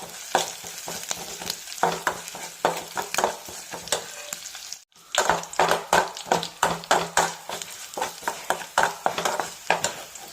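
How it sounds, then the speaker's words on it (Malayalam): Mustard seeds spluttering and popping in hot oil for sambar, a dense run of sharp crackles and pops with a steady sizzle underneath, close and fairly loud, briefly dropping out midway. "നമ്മുടെ സാമ്പാറിന് വേണ്ടി ഒന്ന് കടുക് വറുക്കാം"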